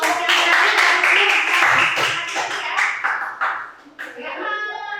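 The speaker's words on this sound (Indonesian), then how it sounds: "Tepuk tangan ya untuk kelompok yang terakhir." A classroom group claps for the final group's presentation, a burst of hand clapping that fades after a few seconds as voices and a brief chatter of children take over.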